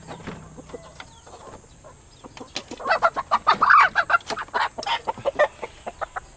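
Fighting rooster clucking and squawking close by, a burst of sharp repeated calls building in the middle and trailing off, with little else around.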